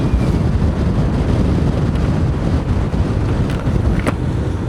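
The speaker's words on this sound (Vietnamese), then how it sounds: "Gió quá." Strong wind roars steadily into the microphone while riding a motorbike along a highway near a riverside in southern Vietnam, a loud continuous low rumble with no talking.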